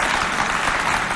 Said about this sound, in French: On applaudit pour ces deux...